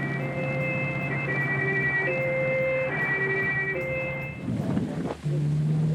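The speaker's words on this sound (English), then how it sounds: "Ambulances came from all over the city." Ambulance sirens wail at a disaster scene in Melbourne, a loud two-tone sweep alternating for several seconds before breaking off into street noise and a lower horn-like tone.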